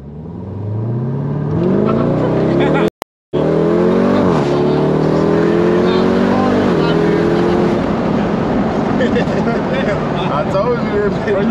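A Jeep Grand Cherokee Trackhawk SUV does a push launch, its engine roaring loud and close as it climbs through rising revs with a brief gearshift break, heard from inside the cabin, with voices talking over it.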